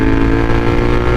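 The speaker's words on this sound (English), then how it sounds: "Jesus, bike is loud." A loud motorcycle fitted with a stock KTM Super Duke exhaust runs close by, a steady dense engine drone with no break across the short stretch.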